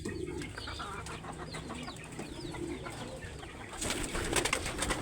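Pigeons coo in a loft, several soft repeated throaty calls overlapping at close range over a murmuring background, with a louder burst of rustling or wing flutter toward the end.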